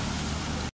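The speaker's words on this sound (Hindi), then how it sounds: "बताओ ना कि बारिश हो रही है" Steady rain falls over an outdoor spot in Rawalpindi, a dense, even hiss with a low rumble beneath it, close and constant throughout before cutting off abruptly at the end.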